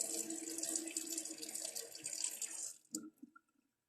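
A sink faucet runs steadily during hand washing in a health department setting, a bright hiss of flowing water that cuts off abruptly near the end, followed by a few faint drips and clinks.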